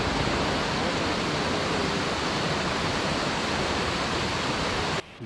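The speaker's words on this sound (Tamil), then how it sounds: "இதுதான் காட்டு அருவி சொல்லுவாங்க" A forest waterfall in Anamudi Shola National Park, Kerala, pours with a steady, dense roar that stays loud and close throughout, then cuts off abruptly near the end, with no talking.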